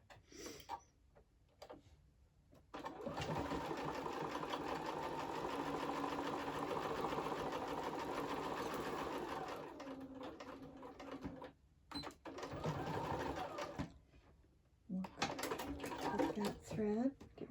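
A sewing machine stitches the last seam of a fabric wallet, whirring in a long close run followed by several short bursts, with a voice briefly speaking near the end.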